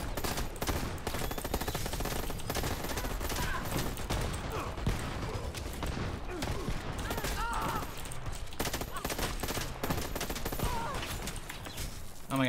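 Sustained automatic gunfire rattles through a Dirty Bomb firefight, a loud continuous barrage of rapid shots with a voice talking over the noise.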